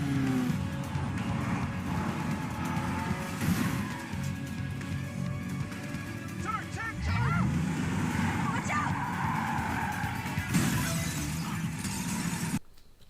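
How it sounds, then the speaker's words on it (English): Car chase scene from the film National Treasure: a dense, loud mix of roaring engines, a passing vehicle sweep and crashing, shattering impacts, with a brief faint voice beneath, ending abruptly. "naturally, we get an international car chase"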